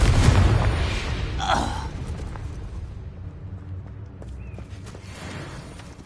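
A Confringo explosive spell cast in the Hogwarts video game bursts loudly at the start, a booming blast that fades into a lower rumble with softer game sounds after.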